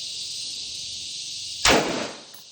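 A single sharp gunshot cracks out close by at an outdoor shooting range on Dinagat Island, Philippines, cutting through a steady high insect-like drone and trailing off in a short echo.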